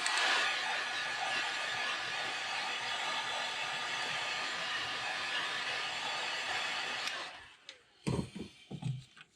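A heat gun blows a steady, loud hiss of hot air over fresh pearl white airbrushed paint on a shiner shad crankbait for about seven seconds, then cuts off, followed by a few soft handling knocks.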